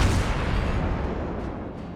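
Heavy naval artillery from the Nuremberg cruiser in World of Warships booms out in a single big blast that rolls off into a long, loud decaying rumble, close and with no talk.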